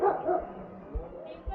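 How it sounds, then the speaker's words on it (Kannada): A dog barks a few times at a distance, short yips breaking through over background voices in a park area near hostels. "ನಾಯಿ ಬೊಗಳ್ತಾ ಇದೆ"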